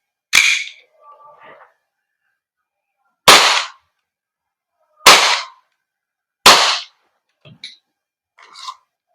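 Four sharp, loud shots from a KJWORKS KP-07 tan 1911 MEU airsoft gas blowback pistol, spaced a second or two apart, each followed by fainter clicks and rattles from the slide and target, with no talk.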